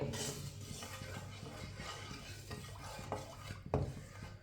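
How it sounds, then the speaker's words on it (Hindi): Whole cumin seeds roast in oil in a pan while a metal spoon stirs and scrapes against the pot, with a clink near the end under a low, steady frying hiss. "साबुत ज़ीरे को 1 मिनट के लिए भून लेंगे।"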